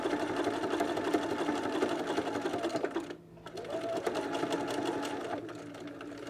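A sewing machine stitches backward, struggling over the hump of a seam allowance on a pair of pants, a close, rapid mechanical whir that cuts out briefly midway and then resumes.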